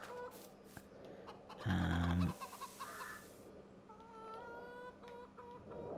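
Chickens in the farming game Farming Simulator 22 cluck amid layered game sounds, including a brief loud low thump and whirring machinery, with fairly soft, scattered calls.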